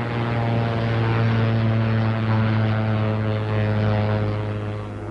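A propeller aircraft engine drones steadily and loudly as a plane in distress flies near, a continuous throbbing hum with no break.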